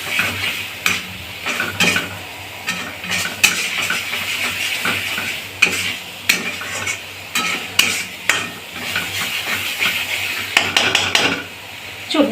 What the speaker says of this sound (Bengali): এবার যে সেদ্ধ করে রাখা ম্যারিনেশন এঁচড়গুলো ছিল সেগুলো আমি একে একে এর ভেতরে দিয়ে দেবো।